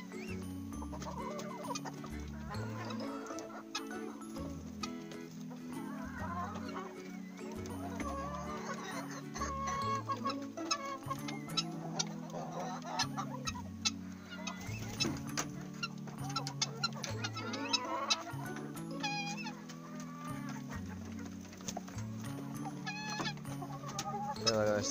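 A flock of chickens eating household leftovers of corn and walnut scraps, clucking continuously with busy overlapping calls and pecking, fairly close, with occasional louder squawks.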